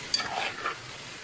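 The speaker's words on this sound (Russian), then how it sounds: "И без крышки, и огонь самый максимальный. Нет-нет, помешиваем." Carrots frying uncovered on maximum heat in a pan, stirred with a few quick scraping strokes over a soft sizzle, brief and close.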